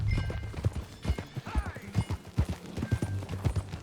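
Horse hooves clip-clopping at a steady walking rhythm in Red Dead Redemption 2, close and distinct, with faint tack jingles and a brief soft whinny-like tone.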